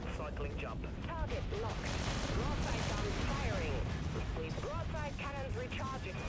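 Flak guns fire repeatedly in the ship combat game Dreadnought, a dense stream of booming shots over battle noise and mechanical whirring, with a voice talking over the constant firing.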